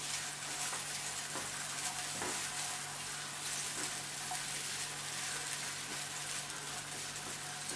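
Sliced potatoes fry in a pan for a Spanish omelette, with a steady, close hiss of hot oil and occasional soft knocks from stirring, and no voices.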